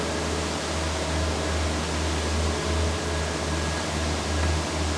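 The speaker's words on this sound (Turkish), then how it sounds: "Bu da paketleme makinesi arkadaşlar." Packaging machine at a carpet-washing facility, running as a steady droning hum with a constant low rumble and broadband hiss, no clear cycles, loud and continuous.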